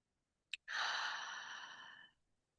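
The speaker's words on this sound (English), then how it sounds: "Let's take a couple more deep breaths here." A single slow, deep breath: a short sharp intake, then a long, smooth exhale lasting about a second and a half, close and alone in silence.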